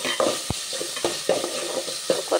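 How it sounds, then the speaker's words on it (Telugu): Coriander leaves fry in a pan for tomato rice, a soft continuous sizzle under repeated spatula scrapes and knocks against the pan, close and unaccompanied by talk. "కొత్తిమీర కూడా ఫ్రై చేసుకోవాలి."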